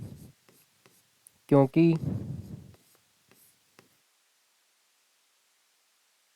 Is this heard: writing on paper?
yes